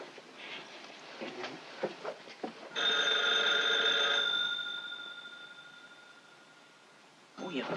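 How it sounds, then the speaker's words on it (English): An old telephone bell from a 1943 film rings once in a loud, sustained metallic trill that fades out, with voices talking before and after the ring. "Your phone's ringing."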